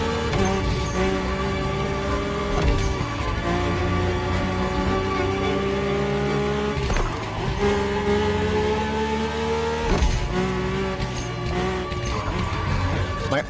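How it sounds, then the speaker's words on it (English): A Mercedes-AMG One hypercar drives in The Crew Motorfest with a loud, steady, high-pitched engine whine and layered harmonics. Gear shifts or brief dips break it at regular intervals, and the engine stays up close and prominent throughout. "ultimate appointment in this country was set with the breathtaking Mercedes AMG 1"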